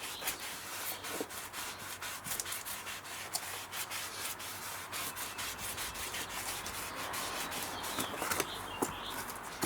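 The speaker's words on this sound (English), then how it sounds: "take a dry rag and go back over it" A dry rag rubs the shipping oil off a new brake rotor from a 2002 Ford Taurus, giving a quiet, continuous scrubbing swish with rhythmic strokes and no voices.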